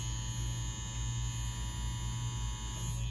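An XNET Elite wireless tattoo machine running with a round liner gives off a steady, low electric hum and buzz that stays even and unbroken, close and fairly quiet, with no talking.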